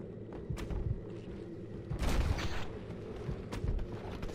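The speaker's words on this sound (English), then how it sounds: "I shot the survivor." Gunshots in Red Dead Redemption: Undead Nightmare, a few separate loud cracks and booms spaced over several seconds against low game ambience.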